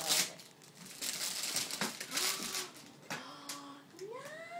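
Plastic wrapping being torn and crinkled off a small toy suitcase, close and crisp, with bursts of crackling and ripping and a few brief high-pitched voice sounds over the top.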